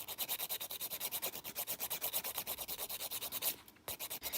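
A 180-grit nail file buffs the top coat off gel nail polish in fast, even back-and-forth strokes, close and steady, with a brief pause near the end and no talking.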